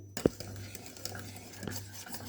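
Spoon stirring thickening custard cream in a pot, soft repeated scraping and light clinks against the pot, fairly quiet and close.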